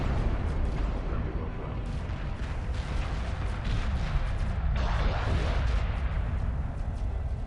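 Cannons fire in the Homeworld space game, a run of heavy booming blasts layered over continuous battle rumble, with a stronger burst of impacts late in the stretch.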